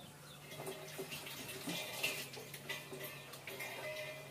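A tap runs while onions are rinsed under it, water splashing and trickling unevenly with small clinks and knocks, fairly quiet and close.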